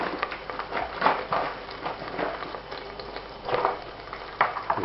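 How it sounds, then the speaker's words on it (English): Clarified butter, ghee, heating in a pan for chana masala, giving a soft crackling sizzle with irregular pops and spatters, moderately close and steady, with no talking. "Gonna begin heating this clarified butter or ghee."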